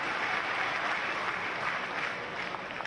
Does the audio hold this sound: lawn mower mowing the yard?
no